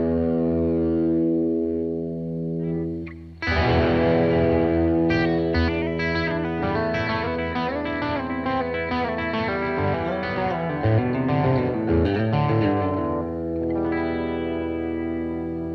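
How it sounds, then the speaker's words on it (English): Electric guitar through heavy effects, with distortion, chorus and echo, runs through the E aeolian scale after a sustained opening chord, a loud continuous line of notes ringing into each other with no voices. "This is the sound of the E-aeolian mode, the E-aeolian scale."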